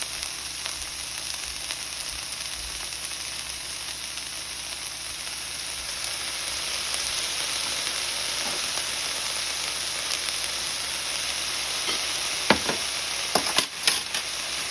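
Food stir-frying with soy sauce in a pan gives a steady, loud, even sizzle throughout, with a few sharp clinks of a utensil near the end and no talking.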